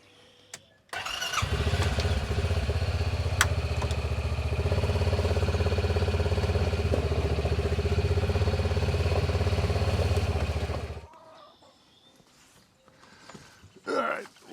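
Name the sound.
Stihl HT 105 pole saw engine running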